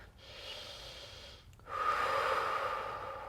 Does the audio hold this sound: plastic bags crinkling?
no